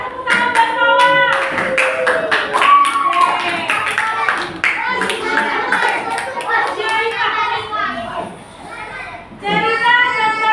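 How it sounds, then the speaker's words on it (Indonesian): Children clapping their hands together in a school classroom during a religious studies lesson, a lively mix of claps and young voices with kids chattering and calling out throughout. "tepuk tangan buat Mawar."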